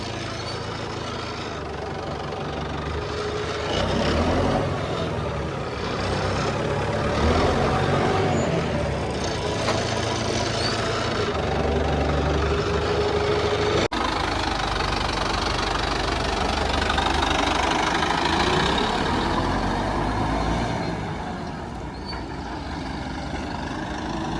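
A Massey Ferguson 2635 4x4 tractor engine running steadily and then picking up speed, a loud, close diesel drone with a knocking beat that rises slightly in pitch partway through, with no talk.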